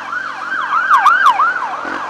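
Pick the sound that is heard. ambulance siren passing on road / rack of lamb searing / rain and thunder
ambulance siren passing on road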